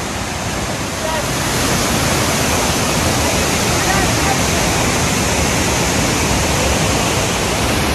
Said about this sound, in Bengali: দেখো এইখান দিয়ে এসে আবার জলটা এইখানে পড়ছে, তাও অনেক নিচে